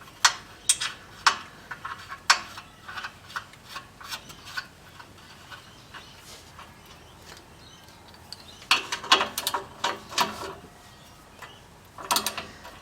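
Ratchet clicking in short bursts while a new oxygen sensor is tightened into a 4AGE engine, quiet close metallic rasping runs separated by pauses, with no talking.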